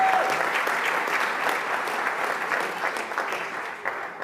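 An audience at a diploma ceremony claps steadily in dense, loud applause that fills the room and holds at an even level throughout, with no speech over it.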